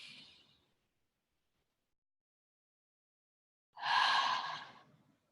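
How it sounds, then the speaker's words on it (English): A person draws a deep, audible breath during a calm breathing exercise, a long airy inhale that swells loudly near the mic and fades, preceded by the tail of another breath and a silent pause. "Just take a deep breath."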